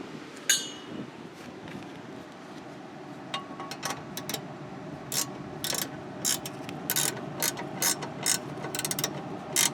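Ratchet tightening the nut on a Honda Civic tie rod end, quick bursts of dry clicking that start sparse and grow busier, close and fairly quiet, with no one speaking.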